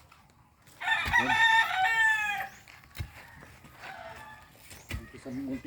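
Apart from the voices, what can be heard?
chickens clucking and rooster crowing in a small chicken coop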